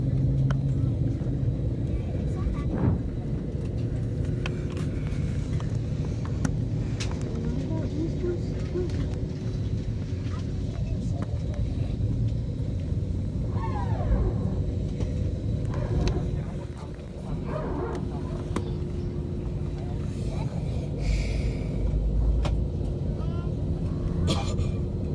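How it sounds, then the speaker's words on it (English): Airliner jet engines spooling up on the ground before takeoff, a steady low rumble and hum heard from inside the cabin, with faint background noise and occasional small clicks. "you can actually hear the engines firing up"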